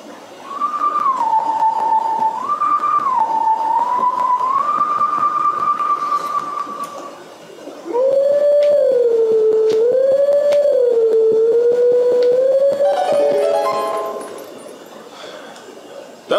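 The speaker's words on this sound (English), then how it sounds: "It's a howling stone." A wolf howling at a howling stone in the video game Zelda: Twilight Princess, heard as a long, melodic, wavering howl in two phrases, the second lower, with a tune-like rise and fall over soft background hum and no talk.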